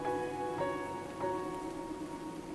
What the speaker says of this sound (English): the rain had slowed to a drizzle